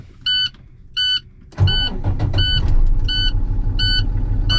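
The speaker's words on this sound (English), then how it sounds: "Push in my clutch, cover my brake, and safe start my vehicle." A Class B truck's engine cranks and catches after two dashboard warning chimes, then settles into a loud, steady idle close by while the chimes keep repeating at regular intervals.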